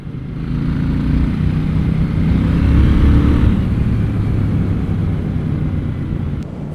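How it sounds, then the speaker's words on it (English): A KTM 790 Duke motorcycle riding on a tree-lined road, its engine droning loud and close under rushing wind, rising slightly then holding steady, with no talking. "I'm on a KTM Duke."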